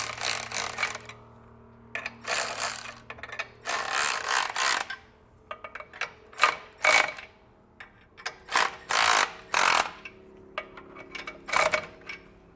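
Ratchet running down nuts while installing Air Lift LoadLifter 5000 Ultimate air helper springs on a vehicle, heard as repeated bursts of rapid clicking separated by short pauses, fairly close and with no talking.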